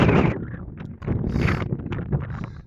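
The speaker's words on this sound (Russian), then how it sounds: "Слышите, наверное, ветер." Cold wind blowing at the seaside, buffeting and rumbling in uneven gusts that swell and drop.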